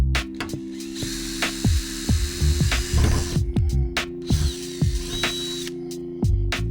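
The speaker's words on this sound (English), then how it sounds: "So I'm gonna drill a hole out in the middle" A power drill bores a hole through the roof of a Dodge Promaster camper van for a MaxxAir fan, with short bursts of whirring and ratcheting clicks interrupted by pauses, close and moderately loud.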